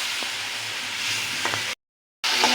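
Masala spice paste sizzles and fries in hot oil with a steady, hissing crackle that breaks off briefly into silence, then resumes.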